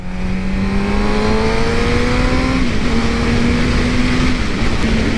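A 2017 Suzuki GSX-R 600 motorcycle rides at steady loud engine drone, the pitch climbing then dropping sharply at two upshifts before rising again, with wind noise throughout.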